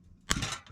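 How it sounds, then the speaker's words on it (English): A pop rivet gun fires a rivet through a clamp held in a bench vise, giving a single sharp, close snap followed by a brief metallic rattle and ring that fades out. "And we can pop the rivet."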